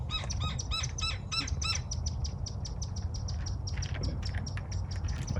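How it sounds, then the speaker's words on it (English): A Gila woodpecker perched atop a saguaro cactus in the Arizona desert gives a fast run of sharp, repeated chirping calls, then fainter scattered chirps over low background rumble. "that bird is a Gila woodpecker"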